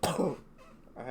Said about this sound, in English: had to sneeze, but then it turned into a cough